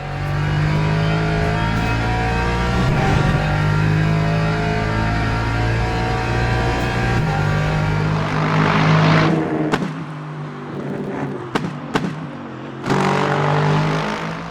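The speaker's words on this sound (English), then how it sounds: "It has good visibility and that great V8 sound again." The V8 of a Lexus RC F GT3 race car in the sim game Le Mans Ultimate, revving hard through several gear changes, the engine note climbing and dropping between shifts before a short lull and a renewed pull.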